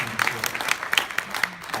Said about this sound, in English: my colleague and friend Joel Nowak, please applaud him